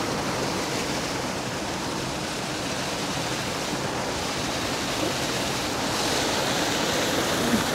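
River water rushes steadily at Paliguang Aso Dam in Bailen, Cavite, a constant full-bodied roar of flowing water with no voices over it.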